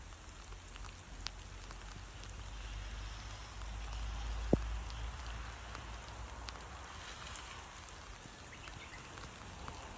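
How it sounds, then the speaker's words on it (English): Steady rain falling on a rainy day, a continuous soft hiss with scattered drop patters and one brief sharp knock midway, fairly quiet and even throughout. "It was a rainy day."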